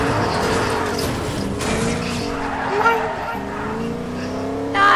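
A car in the Fortnite video game drives along with a continuous engine hum under game sounds and music, with a brief swell of revving partway through.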